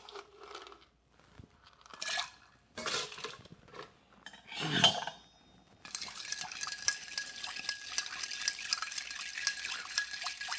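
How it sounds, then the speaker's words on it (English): Ice clinking and scraping in a mixing glass as an ume lemon drop cocktail is stirred, with a few separate knocks and rattles first, then a steady, close, continuous jingle of cubes against glass. "I'm going to add some ice and stir again"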